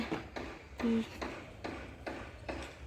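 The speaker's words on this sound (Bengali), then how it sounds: "লোক বাড়ি বানাচ্ছে সেই সব আওয়াজও তোমরা শুনতে পাচ্ছ" Faint, steady tapping repeats every half second or so, hammering from nearby house construction, with low background noise and birdsong.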